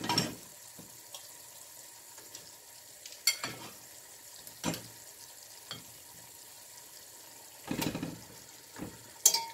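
Chicken pieces dropped into a hot pan for Cuban arroz imperial, giving a faint continuous sizzle broken by several sharp bursts of frying and stirring.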